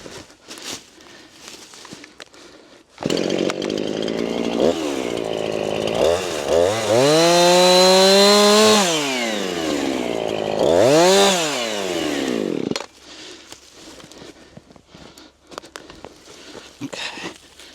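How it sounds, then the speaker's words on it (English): A chainsaw cuts into a storm-damaged tree, starting up abruptly and screaming loud and close for about ten seconds with rising and falling revs as it bites the wood, then cutting off to quiet outdoor background. "I can zip that with the chainsaw."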